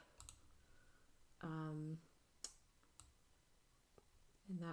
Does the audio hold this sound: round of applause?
no